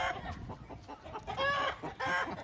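Chickens clucking while a chicken compound is moved, giving soft, quiet bursts of clucks and squawks at close range, with no talk.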